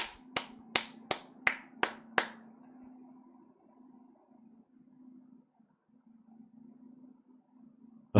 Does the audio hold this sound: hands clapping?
yes